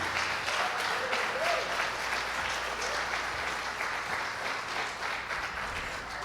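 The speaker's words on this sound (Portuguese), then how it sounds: "Aplauda o Senhor Jesus por isso." A church congregation applauds during an apostle's sermon, a dense, steady roar of many hands that stays loud and even throughout, with no pauses.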